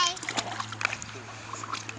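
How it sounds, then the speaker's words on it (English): Water splashing and sloshing in a small backyard pool, quick irregular splats close by, with a voice chattering over the splashes. "He likes the splash."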